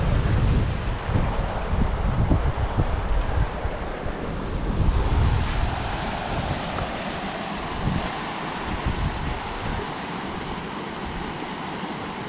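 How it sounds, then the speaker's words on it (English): Water running through Marrinup Falls into a small swimming hole, a steady broadband rush mixed with wind buffeting the microphone, fairly loud and continuous throughout with no talking. "There's a little bit of water going through there."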